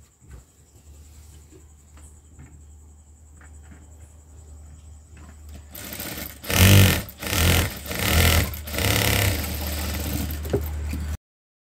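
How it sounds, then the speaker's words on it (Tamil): A sewing machine stitches lehenga blouse fabric: a faint steady hum at first, then louder runs of rapid stitching in several short bursts, close by with no talking. "இது துணி நவராமல் இருக்கிறதுக்காக ஒரு தையல் போட்டுக்கிறேன்."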